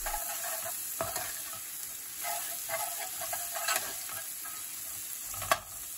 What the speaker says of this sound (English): Add the garlic, stir through and cook for a further 30 seconds.